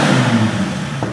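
A 2008 Dodge Viper SRT10 fitted with American Racing headers and a Corsa exhaust revs on a dyno near 6,200 rpm, giving a loud, close, sustained engine roar that eases slightly toward the end.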